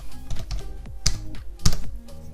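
Quick, irregular keystrokes on a computer keyboard, with several light taps and a few louder clacks in a short burst, close up with no talking.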